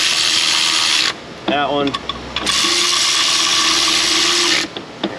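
A ratchet runs down 14 mm exhaust camshaft bolts on a 2009–2012 Infiniti FX35 3.5 in two loud, sustained whirring bursts, with clicks and a brief spoken remark in the pause between them.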